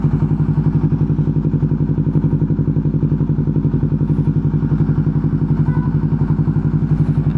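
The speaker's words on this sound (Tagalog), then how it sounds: "yung tunog ng ating motor ay naririnig din natin" A motorcycle engine runs steadily while riding, a loud, close, rapid rhythmic thumping that holds constant throughout.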